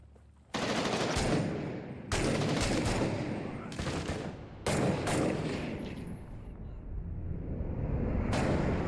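Gunfire in the war video game Six Days in Fallujah, with loud, sustained bursts of automatic fire that start abruptly several times and ring out with echoing tails.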